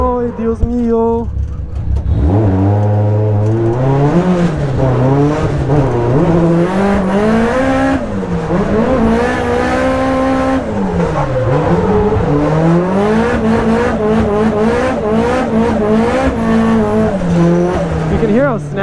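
Toyota Cresta engine revving hard on track laps at Nikko Circuit, loud and close with rising and falling pitch through repeated shifts, sharp throttle blips and brief tire squeal, a voice speaking over it.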